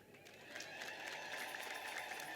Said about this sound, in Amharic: እስኪ አጨብጭቡ አንድ ጊዜ።